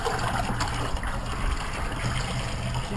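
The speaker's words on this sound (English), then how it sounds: "just rinse out the air filter with some hot water" Hot water runs steadily over a motorcycle air filter from a Husqvarna TC 125 during rinsing, a continuous close trickling and splashing with no talk.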